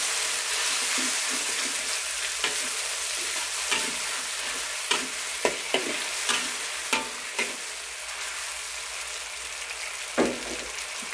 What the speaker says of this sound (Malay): Kita tumis sekejap.